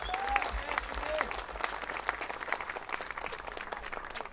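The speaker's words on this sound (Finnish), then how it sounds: "Isot aplodit." A live concert audience applauds the band's bassist with dense, steady clapping and a couple of brief whistles, loud and close throughout.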